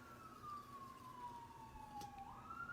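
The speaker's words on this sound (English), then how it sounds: "I have heard the ambulance all day long." A faint, distant ambulance siren wails in a slow falling then rising sweep under a quiet room background, with one sharp click partway through.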